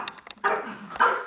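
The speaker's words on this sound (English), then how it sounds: "She's barking at him." A dog barks twice nearby, short sharp woofs about half a second apart, preceded by a few small yips.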